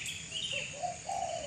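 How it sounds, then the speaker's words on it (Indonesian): Birds call in the early morning outdoors, a steady layer of high twittering chirps with a few lower cooing or whistled notes rising through the middle, fairly close and continuous with no talking. "Burung-burung udah berkicauan."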